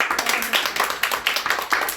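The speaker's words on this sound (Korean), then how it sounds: "박수로 환영합니다" A congregation claps in welcome during an Easter morning church service, with several bursts of close hand claps in an uneven rhythm that fill the short moment.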